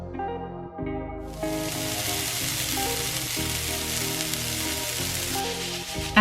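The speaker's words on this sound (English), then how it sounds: "toss this occasionally until it's softened and lightly charred" Sliced onions and peppers with Mexican spice sizzling in a hot pan, a close, steady crackling fry that stays loud throughout, with faint tones from music underneath.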